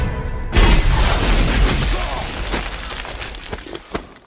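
Dynamite explodes in a horror game, a sudden loud blast that bursts in and rolls into a long crackling, debris-filled rumble with scattered pops and thuds as it dies away.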